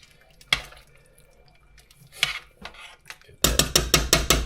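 A spoon scraping and clinking in a pot of grouse soup with turnip and carrot, a few scattered stirs and knocks followed by a quicker run of rhythmic stirring strokes near the end.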